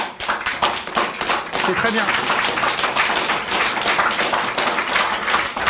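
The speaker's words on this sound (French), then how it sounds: "Là, on applaudit ici" Audience applause, dense and sustained clapping filling the room, with someone speaking briefly over it.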